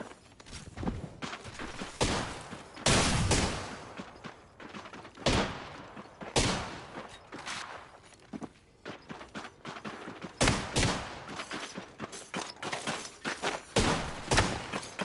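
Video game gunfire pops and cracks in irregular bursts, with clustered volleys and single shots at varying distances, mixed with thuds and scattered impacts.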